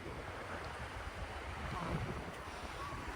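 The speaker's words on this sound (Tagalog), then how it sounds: "Naririnig mo lang ang alon, hampas ng alon." Ocean surf washes continuously onto the beach at East Coast Park in Singapore, a broad steady rushing roar mixed with wind buffeting the microphone.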